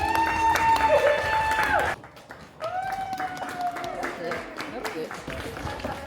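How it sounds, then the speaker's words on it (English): People applaud and cheer at a dance rehearsal during a bow practice, with a burst of clapping that cuts off abruptly. Voices and movement noise continue after it. "Everybody's clapping."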